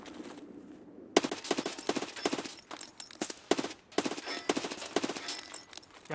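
Rapid automatic gunfire in the video game Escape from Tarkov, several sharp bursts of rattling shots with brief gaps between them, loud and close.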